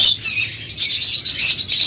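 A pair of yellow Fischer's lovebirds, red-eye split ino, calling close and loud, with rapid shrill chirps and squawks running almost continuously through the short stretch.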